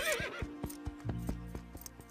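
An Arabian horse in an animated series lets out a loud, shaky whinny, followed by a steady run of clip-clopping hoofbeats close by.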